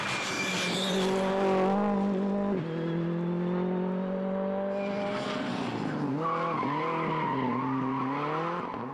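A Ford Fiesta rally car on a Belgian rally stage, its engine loud and close, revving hard through gear changes with tyre squeal and skidding.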